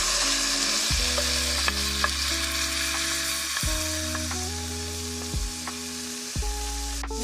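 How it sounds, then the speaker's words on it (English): Minced garlic sautéing in a pot for a one-pot Cajun chicken Alfredo orzo, a steady loud sizzle running throughout with occasional stirring scrapes and no voices. "Now we're going to add in our minced garlic. We're going to saute that for 1 minute."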